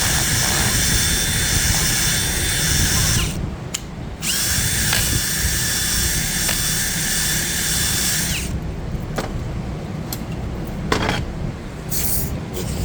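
A high, sustained power-tool whine sounds as a rotary tool polishes a bore in a 4L60E transmission valve body, steady and loud for several seconds, then breaking into shorter bursts.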